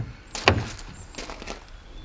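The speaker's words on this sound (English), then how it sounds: "The doors open nice and wide." An MG5 electric estate car door unlatches and swings open with keyless entry, a single sharp clunk followed by fainter mechanical rustles, close and fairly quiet with no talking.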